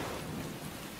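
Steady, dense rain and a rumbling thunderstorm fill a cartoon scene, loud and continuous throughout.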